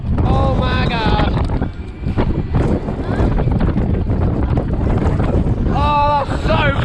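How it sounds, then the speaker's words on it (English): Strong wind buffets the microphone at a funfair on a rainy February day, a heavy, continuous low roar with gusts, while a voice speaks over it and brief high squeals cut through at moments. "Oh, it's windy up here."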